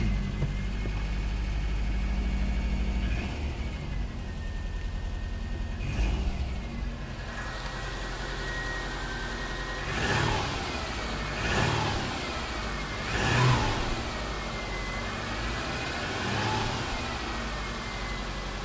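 2004 Subaru Legacy engine running warm after startup, a steady idle broken by several short revs that swell and fade, heard close with no talking.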